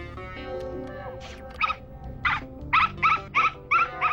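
A cartoon dog in a room gives a series of short, sharp whimpers and yips, spaced irregularly and growing more frequent toward the end, fairly close but moderate in level.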